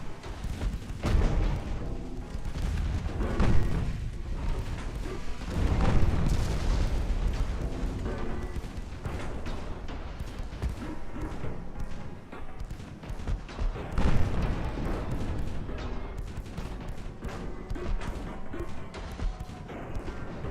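8-inch naval guns fire in the Ultimate Admiral Dreadnoughts naval battle game, a dense, steady barrage of booms and crashes that rumbles on without a break.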